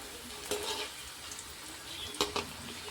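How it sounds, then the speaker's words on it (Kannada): Sweet corn snacks deep-frying in hot oil over a high gas flame give a steady, soft sizzle. A couple of brief clinks or stirs stand out above it. "ಎಣ್ಣೆ ಒಳಗೆ ಕರಿಬೇಕಾದ್ರೆ ಗ್ಯಾಸ್ ಫಾಸ್ಟ್ ಇಟ್ಕೊಂಡೆ ನಾವು ಕರ್ಕೋಬೇಕ್ರಿ"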